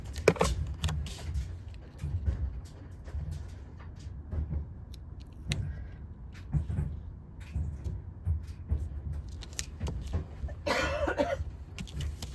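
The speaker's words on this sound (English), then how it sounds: "I'm having a coughing fit" A coughing fit from a person indoors: repeated harsh coughs and throat clearing scattered irregularly, close to the microphone, amid small handling noises.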